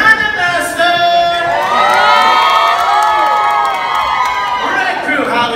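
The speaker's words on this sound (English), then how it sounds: "How will you cheer for your cannon" The green crew at a pirate dinner show roars and cheers for their cannon master, a loud, sustained crowd of shouts and whoops that swells and holds for several seconds.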